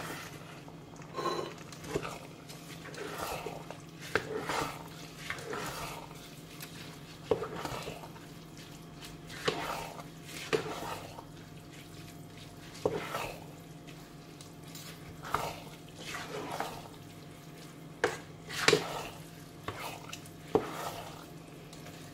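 Basmati rice with tomato and vegetables, jollof style, stirred in a pot with a spoon, producing a series of soft scraping and wet stirring strokes at an irregular pace, fairly quiet and close.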